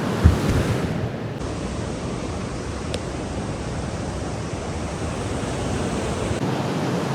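Waves wash onto a beach in Thailand in a continuous broadband rush, with wind buffeting the microphone and a brief click partway through.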